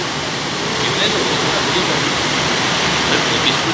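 Water pours over Dindi Dam near Hyderabad in a steady, loud, rushing roar that fills the air without a break, heard up close.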